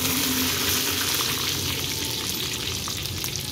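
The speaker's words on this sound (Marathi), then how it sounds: "त्याच्यानंतर कढीपत्त्याची पानं टाकायचे आपल्याला" Curry leaves dropped into hot oil with mustard and cumin seeds hiss in a dense, continuous crackling sizzle, loud and close with no voices, holding steady for a few seconds.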